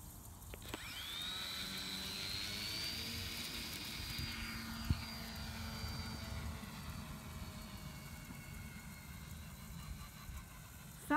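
A small RC model airplane engine during takeoff, running rough and not quite right, a thin high-pitched whine that rises and bends in pitch over a steady outdoor background, fairly faint and distant.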